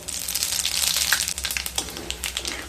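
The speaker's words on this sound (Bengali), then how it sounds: "এবার ওই তেলের মধ্যে 2টো শুকনো লঙ্কা, হাফ চামচ 5 ফোড়ন" Dried red chillies and panch phoron spices tossed into hot oil left from frying fish for a Bengali katla curry, crackling and popping in quick bursts over a steady sizzle, close and without speech.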